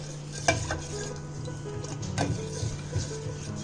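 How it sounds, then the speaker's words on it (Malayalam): A milk and jaggery mixture is stirred in a pot on a stove, with a few soft scraping strokes and a light bubbling sizzle underneath, faint and close, no voices. "പാലും ശർക്കരയും കൂടി ഉള്ള മിക്സ് നമുക്ക് അടുപ്പിൽ വെച്ച് നന്നായിട്ടൊന്ന് ഇളക്കി കൊടുക്കാം"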